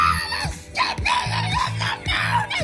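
Several people scream the lyrics of a song, loud, harsh and close, with shrill voiced bursts and short breaks between the phrases.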